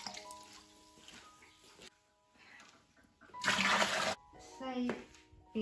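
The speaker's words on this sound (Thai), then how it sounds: "น้ำตาลที่ละลายไว้แล้วผสมกับน้ำให้ได้10ลิตรนะจ๊ะ" Water is poured and splashed into dissolved sugar to make elderflower champagne, a loud rushing pour in two bursts between quieter stretches, with a voice speaking faintly.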